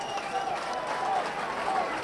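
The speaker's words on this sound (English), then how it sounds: "a good round of applause there for tackling" A rugby league crowd at a 2004 Workington versus Leeds cup match claps steadily for a tackle, a dense, fairly distant wash of applause lasting the whole moment.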